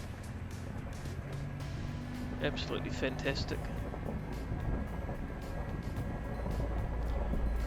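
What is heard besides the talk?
car engine struggling uphill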